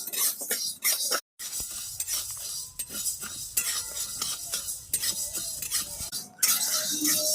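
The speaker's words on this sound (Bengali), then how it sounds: "হালকা নেড়ে নেবো।" Mashkalai dal being lightly stir-fried in a dry wok, a metal spatula scraping and clinking against the pan in a busy, continuous rhythm over a soft sizzle, close and fairly loud with no voices.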